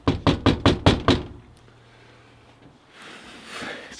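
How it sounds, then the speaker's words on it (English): Six quick, solid knocks strike a door outdoors in a snowstorm, close and loud in an even rhythm, then a quiet stretch of wind and faint background noise follows. "All right, so let's knock on this door."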